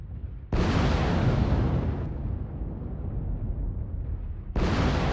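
Airstrike explosions in a video game: two heavy blasts, one at the start and another near the end, each followed by a long rumbling roar, loud and booming with no voices.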